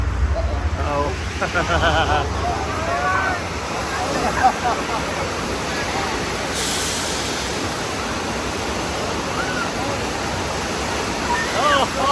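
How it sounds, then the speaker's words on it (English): Water gushes from a simulated water main break on the Universal Hollywood studio tour, a loud, steady rushing roar close by, with voices in the background. "Water main break."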